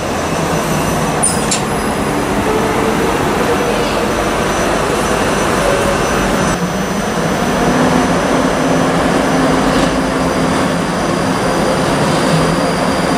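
A train pulls into a station platform in Strathclyde on the 19:32 service, a loud, steady rumble of wheels on rail with squealing tones and clanks throughout.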